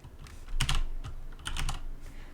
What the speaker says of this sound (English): So I just typed in social entrepreneur.